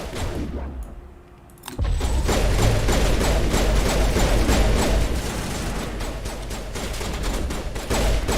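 Rapid gunfire from a gun in Mass Effect, a loud continuous stream of shots after a short quieter opening, steady and close with no speech.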